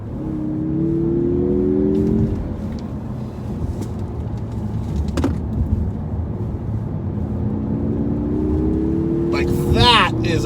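Revving engine and exhaust of a 2021 Mazda3 GT Turbo AWD with quad tailpipes, rising and falling under steady engine drone for about ten seconds, with a sharp higher rev burst near the end.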